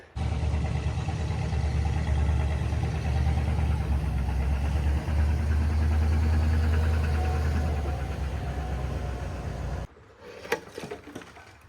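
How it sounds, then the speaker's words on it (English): An excavator engine warming up at a drainage job idles with a loud, steady, low diesel rumble close by for about ten seconds, then cuts off, leaving quieter knocks and rattles. "we let that excavator warm up just a little bit"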